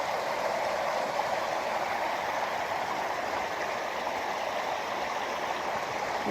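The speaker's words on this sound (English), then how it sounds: "Got a big spring here." A big spring pours steadily out of loose rock on a Columbia River beach, giving a continuous rushing, gurgling wash of water that stays even and close throughout with no pauses.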